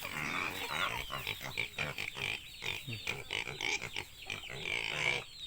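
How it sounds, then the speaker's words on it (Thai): Piglets grunting and squealing continuously, a busy overlapping chorus of short snorts and high squeals close by, with no talking. "หมูน้อย"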